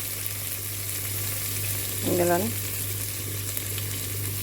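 Mint and curry leaves crackle in hot oil in a pan as a steady sizzle over a low hum, with a brief spoken word partway through.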